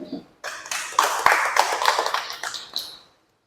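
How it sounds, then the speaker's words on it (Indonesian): A small group claps for a participant named Bu Niken at a teacher training session, a brief, close round of hand claps lasting a few seconds before tapering off into silence. "Beri tepuk tangan dulu untuk Bu Niken."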